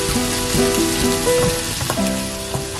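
Basil leaves stirred in a sizzling pan for three-cup stewed chicken, a loud, dense frying hiss with spatula scrapes and clinks against the pan, while music with a clear melody plays over it.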